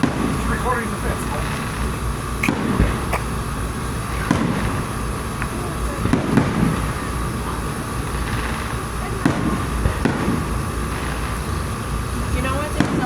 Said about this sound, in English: You even see the fireworks?